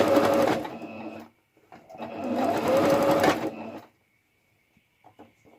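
A sewing machine runs in two steady bursts while topstitching a fabric face mask seam on the fleece side, a fast close mechanical whirr that stops, restarts and then falls quiet, leaving a faint hum and light handling taps.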